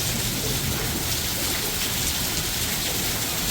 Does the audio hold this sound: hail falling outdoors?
yes